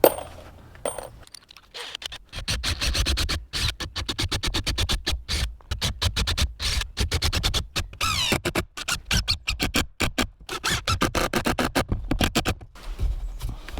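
A drill countersinks and drives screws into pallet wood, a loud, close, rapid rattling chatter in long bursts broken by short pauses.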